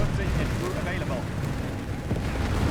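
Mortar fire in the WWII strategy game Company of Heroes 3, heard as dense, rumbling low booms and blasts layered continuously over a noisy battlefield, loud and close throughout.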